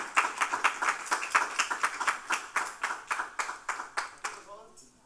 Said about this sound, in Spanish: Aplausos para ellos que justamente llegan desde la región Junín.